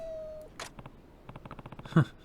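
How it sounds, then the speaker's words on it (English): A hungry cat meows repeatedly in the video game Like a Dragon: Ishin!, a quick series of short close cries ending in one louder, drawn-out meow, with no talk over it. "Now, where is the hungry cat?"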